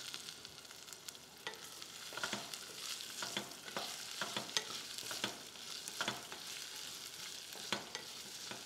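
Onion, cauliflower, carrot and French beans sauté for a mixed veg and dry fruit pulao, a quiet sizzle broken by frequent spoon scrapes and taps against the pan.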